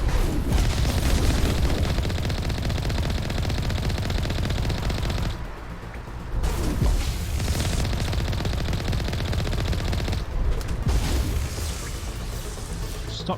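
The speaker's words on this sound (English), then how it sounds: "Stop shooting at me" Sustained gunfire in the video game Mass Effect 1 during an ending battle, with dense loud continuous shooting and explosive crackle, dropping out briefly twice.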